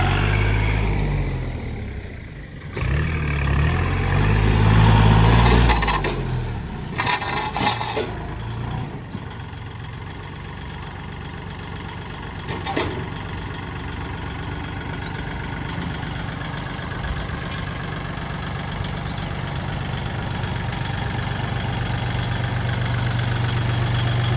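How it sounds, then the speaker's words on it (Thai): A tractor engine runs while grading ground, a low steady idle-like rumble that swells louder for a few seconds near the start, then settles into a constant mid-level drone with occasional clanks. "เราจะให้ รถไถเกรดพื้นที่นี้เราให้เรียบร้อยเลยครับ"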